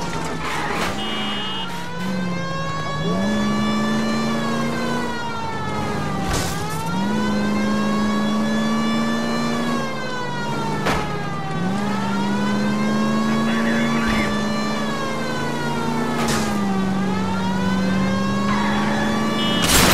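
A 1940s-era car's engine revs continuously during a police chase in L.A. Noire, a loud, close, sustained drone that rises and falls in pitch as it shifts gears, with no talk.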